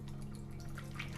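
A shaken drink mixture is poured out in a brief, faint trickle of liquid with light dripping, lasting just over a second.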